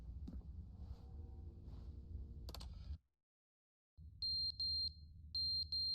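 In The Stanley Parable, a fire alarm sounds after a low hum and a pause, a high electronic tone pulsing in quick repeated beeps in two bursts over steady background drone.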